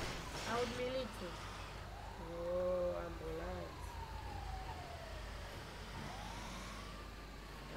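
Police sirens in the FiveM mod of GTA V, wailing and sweeping in pitch over steady engine and traffic noise, moderately loud with a voice talking over them.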